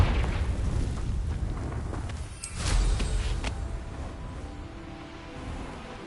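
The Confringo blasting curse goes off in a video game as a booming explosion with a sharp burst partway through, followed by a rumbling tail and a lower-level background rumble.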